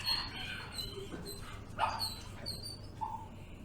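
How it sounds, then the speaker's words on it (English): Recorded whines of dogs left alone, faint high tonal whimpers and yips rising and falling over a steady low background hum, with a few brief louder cries. "we collected separation whines of the dogs"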